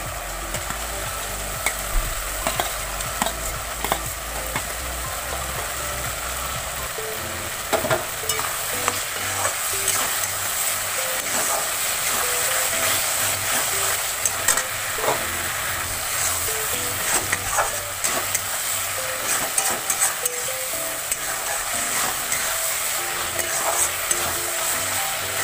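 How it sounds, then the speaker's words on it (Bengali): Fried potatoes are stirred into sizzling spice masala for rui fish kalia, a loud continuous frying hiss with frequent scraping and tapping of a spatula against the pan throughout, and no speech. "আর এখানে আমি ভেজে রাখা আলুগুলো দিয়ে দিচ্ছি।"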